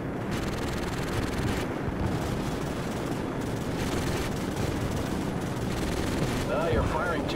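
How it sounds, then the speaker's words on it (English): Call of Duty 4: Modern Warfare gameplay brings dense, continuous gunfire and automatic weapon bursts layered with battle noise, loud and sustained with voices mixed in. "You're firing too close to the friendlies."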